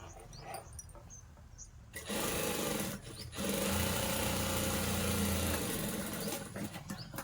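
A sewing machine stitches a boat neck blouse, starting with brief stop-start bursts, then running in a loud, steady whir from about two seconds to the end with only a short pause, no talking.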